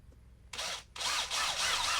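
Small drill boring a tiny hole, the motor whining on in two bursts, a short one and then a longer sustained run, fairly close and alone.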